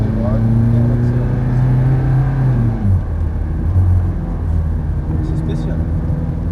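Ferrari F430 pulling hard on a town circuit in Saint-Dié-des-Vosges, its engine note rising through the revs in a loud, continuous roar with a brief dip mid-run, and a person talking over it.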